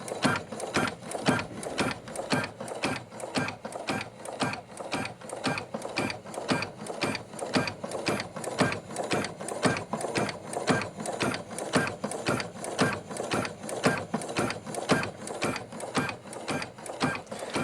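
Singer Futura XL550 sewing machine stitching steadily with a fast, even mechanical clatter that stays close and continuous throughout.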